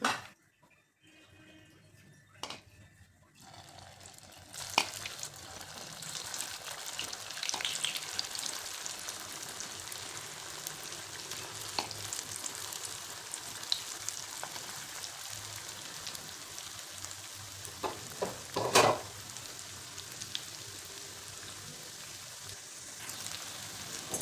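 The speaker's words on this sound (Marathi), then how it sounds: "वडा तयार आहे तर सर्व असे तळून घ्यायचे आपल्याला राहिलेले" Mini sabudana vadas deep-fry in hot oil as a faint, continuous bubbling sizzle with scattered sharp crackles and pops, heard alone.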